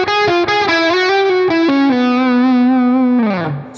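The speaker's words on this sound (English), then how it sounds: "The first lick that we're going to be doing today is going to sound like this." A loud, close electric guitar lick played through distortion: a quick run of picked notes, then a long sustained bend that slides down at the end, with no talking.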